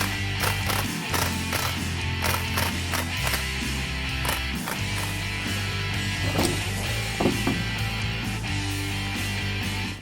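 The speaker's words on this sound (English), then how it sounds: "we need to compress the spring, and you will need a heavy-duty spring compressor for this" A heavy-duty spring compressor squeezes a very stiff coil spring on a 2014-2016 Ford F-150 4WD strut during an Eibach shock install: repeated metallic clicks and creaks over a steady low mechanical hum, close and continuous.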